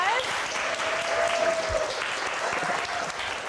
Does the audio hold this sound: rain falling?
no